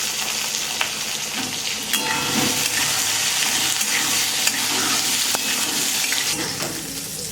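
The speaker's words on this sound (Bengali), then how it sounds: "এই মশলাগুলোর সঙ্গে আদা, পেঁয়াজ, রসুনও একটু নাড়াচাড়া করে ভাজা ভাজা করে নিলাম" Onion, ginger and garlic fry with whole spices in a pan and are stirred. A steady close sizzle carries intermittent scraping and clinking from the stirring.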